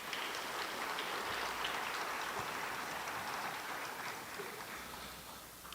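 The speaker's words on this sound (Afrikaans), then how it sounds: "Give yourself an applause." Audience at a school prestige evening awards ceremony applauding: sustained, even clapping from many hands, heard from a distance and fairly soft, thinning a little toward the end.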